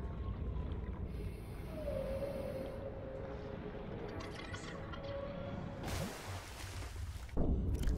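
Faint, drawn-out whale calls in Subnautica drift through low ambient underwater rumble, with a brief whoosh near the end.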